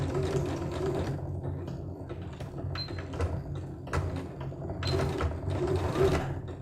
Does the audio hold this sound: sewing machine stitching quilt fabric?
yes